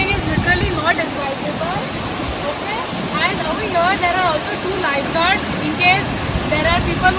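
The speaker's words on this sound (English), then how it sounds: "here is the waterfall behind me, and just look at the flow of this waterfall" Savri waterfall in Netravali Wildlife Sanctuary, South Goa, roaring steadily in heavy flow, a loud continuous wash of falling water with birds chirping repeatedly over it and no talk.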